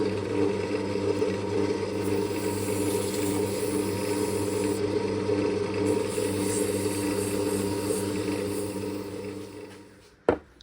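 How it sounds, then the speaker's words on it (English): Resin turning blanks are sanded on a spinning lathe, giving a steady mechanical whirring drone with a faint rasp that fades near the end, followed by a brief sharp knock. "it's time to give them a sand"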